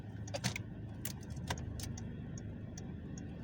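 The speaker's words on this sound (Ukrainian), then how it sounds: "Включимо поворотник." Rhythmic indicator ticks click steadily inside a car during a driving lesson on a first city outing, soft clicks over a low steady engine and road hum, with no talking.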